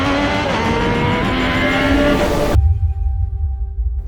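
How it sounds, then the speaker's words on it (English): A Triumph Street Triple 765 RS motorcycle from 2017 roars at wide-open throttle and climbs in revs, then cuts off abruptly at the upshift, leaving a low idle-like rumble. "keep the engine on the boil as you shift up this beautiful gearbox with the throttle wide open"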